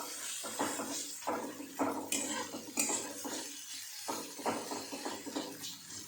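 A spoon stirs turmeric and chopped coriander into pithla, a gram flour dish, in a pan. It makes rhythmic scraping and clinking strokes against the metal, repeated in close, moderately loud passes.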